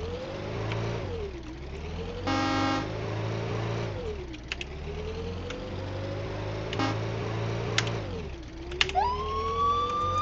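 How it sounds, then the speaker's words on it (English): Fire truck in the Brick Rigs video game, a wailing siren sweeping up and down over a steady engine drone, with short horn blasts breaking in and a rising whoop near the end, loud and close. "Fire truck."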